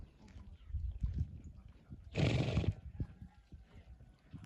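A chestnut mare whinnies loudly once, a short burst mid-clip, with soft hoof clatter and rustling in the background.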